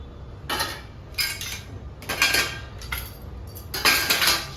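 Dishes, pots and utensils clink and clatter as they are washed, with several separate bursts of metallic rattling close by and no voices.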